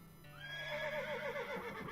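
A horse whinnies in the video game West of Loathing, a single quiet, quavering neigh lasting about two seconds on its own.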